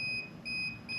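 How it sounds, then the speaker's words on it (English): A Fardriver motor controller on an e-Maddog electric motorcycle beeps to signal it is ready for Autolearn: three repeated electronic beeps, each steady and high-pitched, with short gaps between them and no talk. "it's ready for the Autolearn. That's what those beeps mean."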